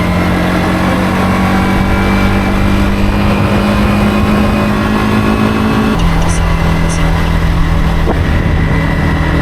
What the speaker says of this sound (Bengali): একটা আওয়াজ হচ্ছে পুরো ইঞ্জিন থেকেই আওয়াজটা আসছে